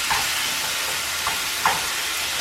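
Ground beef browns in a pan for a homemade marinara spaghetti sauce, giving a faint, steady sizzle with a few soft pops and stirring scrapes.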